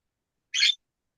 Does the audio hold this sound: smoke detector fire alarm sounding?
no